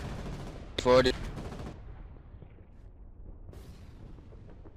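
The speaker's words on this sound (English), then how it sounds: "Open fire on all gunboats." Naval gunfire in the video game Foxhole during a battle against gunboats, a loud burst of shots near the start followed by a lower rumbling background, with players talking over it.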